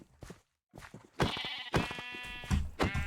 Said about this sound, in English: Sheeps approacheth